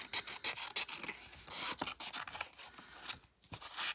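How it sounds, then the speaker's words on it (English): Scissors snip through paper in quick, repeated cuts, close and crisp, with short rustles between the strokes. "Grab our scissors and we'll just do a super fast."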